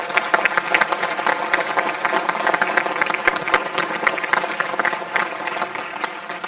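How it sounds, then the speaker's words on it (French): An audience at a New Year's greetings ceremony applauds staff, dense sustained clapping from a large crowd that keeps an even, lively intensity throughout with no speech over it. "On peut les applaudir."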